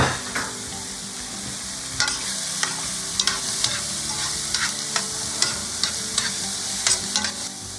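Diced tofu and onion fry in a pan for fried rice made with brown rice, a steady close sizzle broken by repeated sharp scrapes and knocks of a utensil stirring through the food, with no talking.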